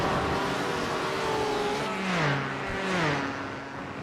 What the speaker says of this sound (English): we've now got a whole gang of cars coming across the line